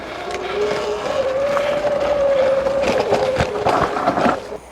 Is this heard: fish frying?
no